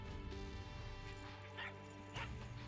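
Injured dog whimpering and yipping in Far Cry 6, a few short plaintive cries over dense game music and ambience, moderately loud throughout.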